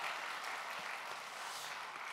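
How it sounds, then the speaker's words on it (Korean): A church congregation applauds during a Sunday service, a steady, even wash of many hands clapping throughout. "다시 한번 뜨겁게 박수로 격려해 주시기 바랍니다"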